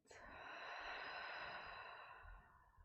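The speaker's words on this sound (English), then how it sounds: "And deep breath out through the mouth." A single long, deep exhale pushed out through the mouth during a guided movement session, breathy and steady for a few seconds before tapering off, close and alone.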